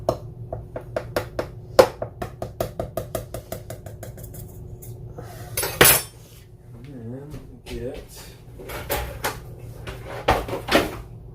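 Pizza dough pounded in a bowl with a rubber knife, a series of close dull thuds and knocks in a home kitchen, rhythmic at first, then irregular with a brief spoken voice.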